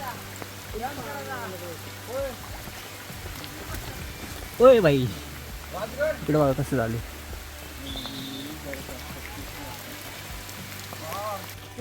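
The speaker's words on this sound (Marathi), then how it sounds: "पाऊस चालू झाला आहे आता वरून" Rain patters steadily through the forest on the Rajgad fort trek, a soft continuous hiss running beneath several people talking nearby.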